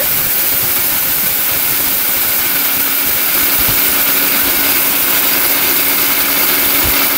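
A powerful electric blender runs steadily after being switched on, its motor producing a loud, constant roaring whir with a hissing edge that holds unchanged throughout, close by and with no talk.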